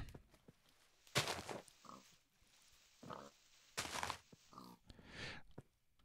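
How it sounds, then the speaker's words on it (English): Pigs in the Minecraft video game, several short, breathy oinks and grunts in separate bursts with quiet gaps between them, fairly faint and with no talk. "The pigs jumping in the trees."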